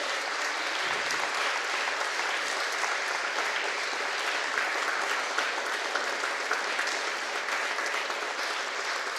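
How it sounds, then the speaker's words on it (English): Audience applause at a Monterey County fallen heroes memorial event, a steady, sustained round of clapping from a large crowd filling the room without a break. "Let's give a round of applause for these wonderful signs"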